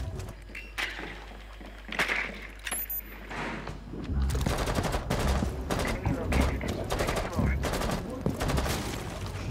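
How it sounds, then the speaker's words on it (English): Bursts of automatic gunfire in a Rainbow Six Siege multiplayer match, dense rapid shots filling the second half after sparser cracks early on, with voices talking over the firefight. "Shooting each other."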